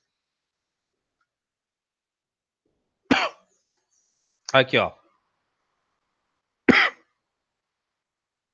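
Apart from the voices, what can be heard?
coughing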